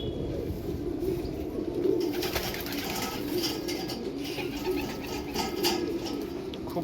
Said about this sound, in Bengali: এই পায়রা দু পিস কালাঙ্কা পায়রা আছে